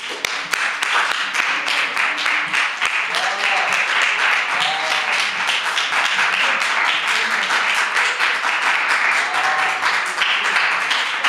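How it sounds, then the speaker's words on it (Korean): Congregation applause during a Sunday youth worship service at a Seoul church, steady sustained clapping from a large crowd throughout, with faint voices underneath. "박수 부탁드립니다."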